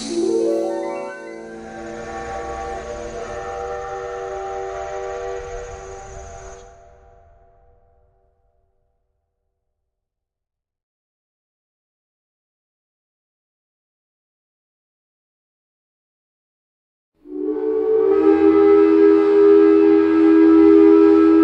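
A long, loud steam whistle wails and fades to silence, then after a long pause a second deep whistle blast sounds again.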